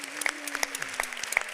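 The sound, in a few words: audience applause for panelists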